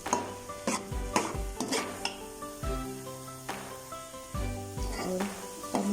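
Khoa is stirred into carrot halwa in a pan, making repeated close scraping and clacking strokes against the metal in an uneven rhythm over a faint sizzle, with tonal background music underneath.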